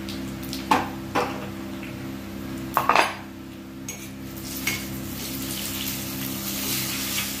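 Garlic and red chillies being stirred in a pan, with a few sharp metallic scrapes and clinks of a utensil against the pan over a steady low background hum, no talking.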